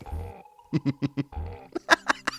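A man belches deeply and close to the mic, followed by short voiced bursts and a second low belch, during a casual gaming chat.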